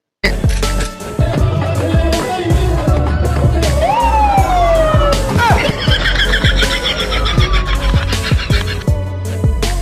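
A CCD police vehicle siren wails in rising and falling sweeps through the middle of the clip, loud over busy street noise and a crowd, with voices nearby.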